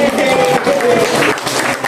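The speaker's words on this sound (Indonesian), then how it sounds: "Tepuk tangan untuk semua." A class of schoolchildren applauding together in a classroom, dense, close clapping that fills the room, with a voice carrying faintly through the noise.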